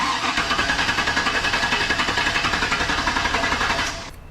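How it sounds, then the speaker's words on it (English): A 2000 Chevy Silverado engine cranks over steadily on its starter with a rapid, even rhythmic churn, loud and close, then cuts off abruptly without firing. "Now by it cranking like it did, that proves that the entire circuit is good and able to handle a starter load."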